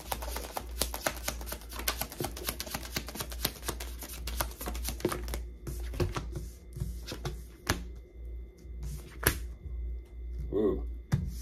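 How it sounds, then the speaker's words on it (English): A tarot card deck is split and riffled, giving dense rapid flicking clicks for several seconds, then sparser taps and card handling with a low hum underneath. "split the deck, and there you are"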